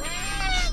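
A cat lets out a single drawn-out, rising-and-falling meow in Friday the 13th: Killer Puzzle, clear and close over a low ambient hum.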